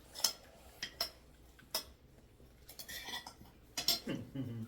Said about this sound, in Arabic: ضحى بتغسل الرز